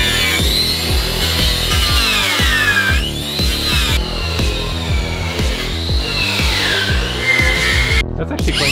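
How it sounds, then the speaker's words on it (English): A grinding wheel scouring rust off car body metal produces a loud, close, continuous whine that rises and falls in pitch as the wheel is pressed and eased against the panel. No one speaks. "So I'm going to take the death wheel at it and try and clean it up."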